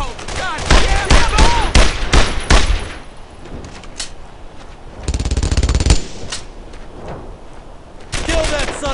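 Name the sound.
gunfire in a battle, from the video game Brothers In Arms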